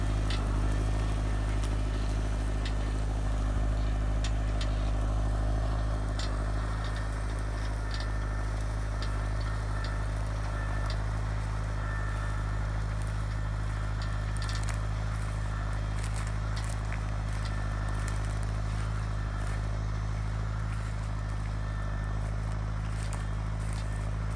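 A 110 hp Massey Ferguson 5445 tractor works a stubble field near Beylikova, Eskişehir, with a steady, loud low engine drone holding throughout and faint crackling and scraping from the implement on top.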